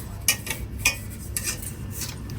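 A metal lid is handled over a cooking pot in a home kitchen, with a few light metallic clinks and taps, close but faint, spaced irregularly over a low background hum.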